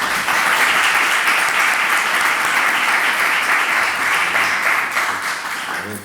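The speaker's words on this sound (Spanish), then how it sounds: "Yo os pido así de antemano un aplauso para ellos." Loud applause fills the room for a book author, a flamenco singer and a guitarist at a presentation on a century of flamenco and radio. The clapping is dense and sustained, then eases slightly at the close.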